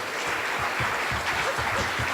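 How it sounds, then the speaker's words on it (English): An audience at a development-authority gathering gives a round of applause, a continuous, moderately loud patter of clapping filling the short span, with faint voices mixed underneath. "give Screven County a round of applause."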